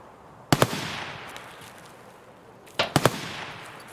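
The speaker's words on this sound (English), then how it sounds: "that AK shooting is a player" Distant AK rifle fire echoing across an Escape from Tarkov map, two short bursts of two or three cracks each, separated by a couple of seconds, with a long reverberant tail fading after each.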